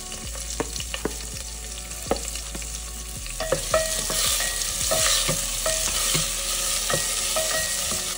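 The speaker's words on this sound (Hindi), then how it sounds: "सो मेरा जीरा भुनना चालू हो गया है. अब इसके अंदर सबसे पहली चीज़ मैं डालूँगी मेरे प्याज" Cumin seeds and onions sizzle and fry in a pan, a steady hiss broken by frequent sharp scraping stirs and clicks that grow busier and louder toward the end.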